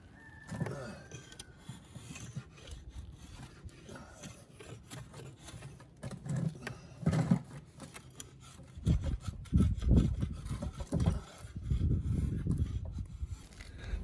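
Wooden hoe handle being shaped with a rasp, giving irregular rubbing and filing strokes that grow louder and denser toward the end, with faint talk early on.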